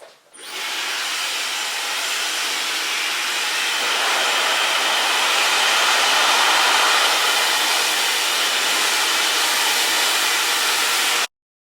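A Dyson hair dryer blows on hair in a loud, steady high-pitched whoosh that starts abruptly, runs continuously for about eleven seconds and then cuts off sharply.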